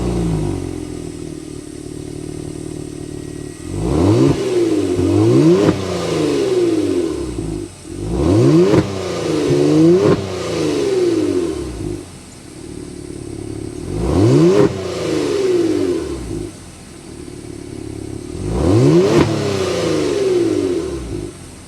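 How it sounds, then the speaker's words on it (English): A 2023 Genesis G70 with the 3.3-litre twin-turbo V6 revs repeatedly from idle, four sharp throttle blips about every five seconds, each rising and falling back to a steady, close-miked exhaust idle. "start it up, give it some revs so you can hear that exhaust note"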